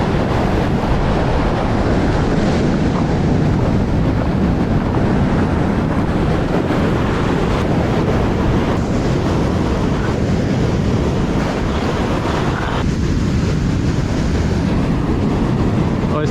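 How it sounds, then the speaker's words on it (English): Loud, steady ocean surf rolls continuously on the 90 Mile beach, still rough a few days after a windy weekend, with heavy wind buffeting the microphone throughout and no talk. "Takes a few days for the ocean to calm down after a windy weekend."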